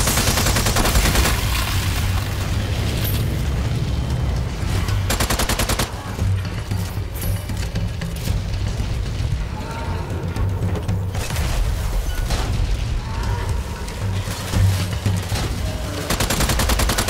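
Dense, continuous gunfire fills a Strange Brigade horde-mode battle, with rapid automatic bursts and booming shots running loud and near throughout, broken by brief louder volleys and with a little talk underneath.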